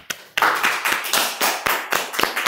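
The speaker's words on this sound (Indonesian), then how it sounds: "Tepuk tangan dong." Brief round of clapping from a small group, a few sharp individual claps growing into a steady patter of hands, close and moderately loud with no voices over it.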